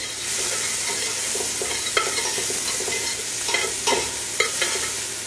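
Wild mushrooms (lobster, hedgehog, chanterelle and trumpet) sauté in a hot pan with a loud, continuous sizzle, broken by occasional scraping stirs and sharper crackles.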